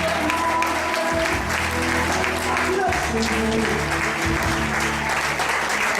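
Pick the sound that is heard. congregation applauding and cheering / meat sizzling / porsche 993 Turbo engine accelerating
congregation applauding and cheering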